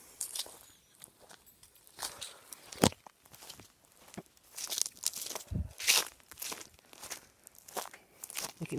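Footsteps crunch over a dry, raked farm yard, irregular crackling steps near and moderately loud, with bursts of crinkling from dry debris underfoot.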